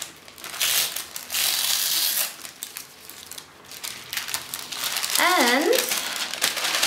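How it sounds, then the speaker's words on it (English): Baking paper is torn and crumpled by hand in a kitchen while making an apple cake, several crinkly rustling bursts with a brief voice near the end. "Then tear off the rest of the paper."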